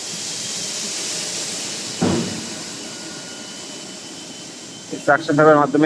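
A suction pipe unloads cargo from a Russian ship's hold at a jetty, giving a steady loud rushing hiss with a brief thump partway through; a voice breaks in near the end.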